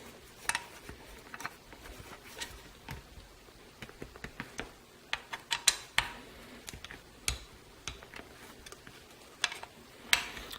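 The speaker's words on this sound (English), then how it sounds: "Just using my calibrated hand torque wrench for this one." A hand torque wrench clicks and ratchets while chainring bolts are tightened on a SRAM S950 crankset, giving a quiet, irregular series of sharp ticks and metallic clacks close up.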